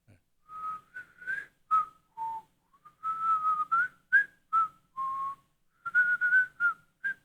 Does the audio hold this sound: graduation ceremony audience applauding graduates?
no